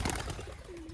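A pigeon coos faintly in a village setting, a short low note near the end rising from busy background noise.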